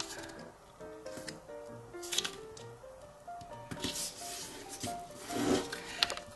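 Origami paper being creased and turned over while folding a jumping rabbit, close up, with soft rubbing and crinkling strokes, quiet papery scrapes and a few sharper flicks, and no talking.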